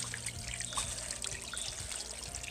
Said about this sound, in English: It's trickling down the steps.